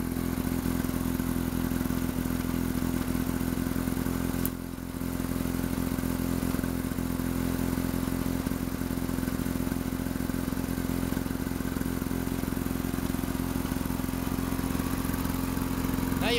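A LawnBoy 8229A lawn mower engine runs continuously nearby, a steady loud droning hum with a brief dip partway through, and no talk over it.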